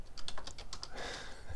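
Quick bursts of typing on a computer keyboard during a Linux Mint 19 install in VirtualBox, a rapid run of close, crisp key clicks with no voices.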